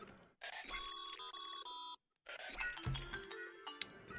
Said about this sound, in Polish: Co za pipczenie.